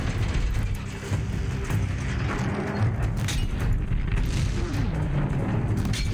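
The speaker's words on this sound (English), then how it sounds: "We're gonna shoot his fire canister." A fire canister on a machine is shot in Horizon Zero Dawn, setting off a heavy, rumbling boom that roars on as a loud, dense blaze with no talking.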